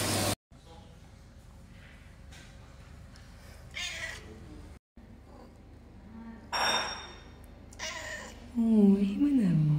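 A cat meows several times, short drawn-out calls spaced across the stretch, close and moderately loud, with a person talking softly in between.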